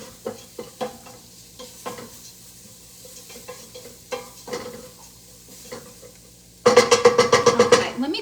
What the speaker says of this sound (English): we're just going to mix this together and kind of toast it or roast it